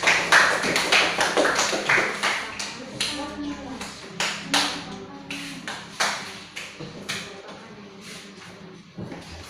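A classroom of students claps in a series of uneven bursts, loud at first and gradually thinning out, with voices talking underneath.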